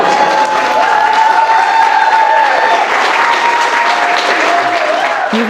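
Wedding guests at Botleys Mansion in Surrey break into loud, sustained applause that fills the room and carries on without pause, with faint cheering mixed in.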